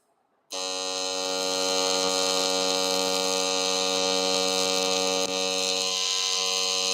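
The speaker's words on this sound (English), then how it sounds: "let's go ahead and run this last 3 inches of weld" Arc welding on the final three inches of a weld, with a loud, steady electric buzz that starts abruptly after a brief silence and holds unbroken to the end.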